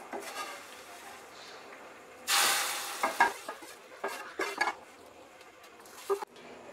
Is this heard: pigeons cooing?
no